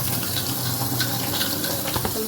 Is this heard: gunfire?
no